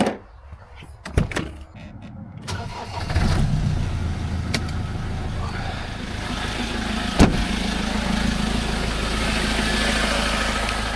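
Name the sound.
car engine running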